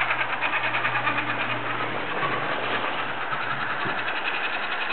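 Small electric drive motors of a remote-controlled rover whir with a steady, buzzing mechanical hum, continuous and fairly close throughout, with no talking.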